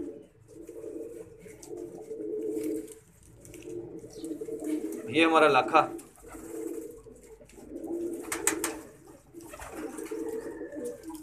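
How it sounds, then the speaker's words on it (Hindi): Pigeons coo in soft, throaty bursts, repeated several times, while someone talks nearby between and over the calls. "वो दूसरा कबूतर अंदर आ गया"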